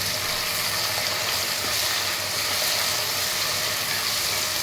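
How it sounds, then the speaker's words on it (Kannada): Small potato pieces frying in a pan for upma: a steady, loud, even sizzle close by, with no pauses and no voices. "ಚಿಕ್ಕದ ಆಲೂಗಡ್ಡೆ ಹಾಕ್ಬಿಟ್ಟು ಇದನ್ನು ಚೆನ್ನಾಗಿ ಫ್ರೈ ಮಾಡ್ಕೋಬೇಕು"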